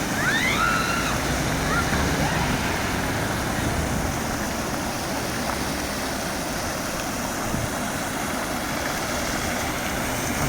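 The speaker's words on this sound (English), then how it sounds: "You've got this nice waterfall here." Fountain water splashes steadily outside Bucharest North railway station in the evening, a continuous broadband wash with traffic and engine hum from nearby buses and taxis mixed in, constant and close throughout.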